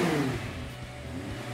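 Audi R8 with a 10-cylinder 5200 cc engine revving, a deep engine roar that swells at the start and then settles into a steady mid-pitched hum, close by with no talk.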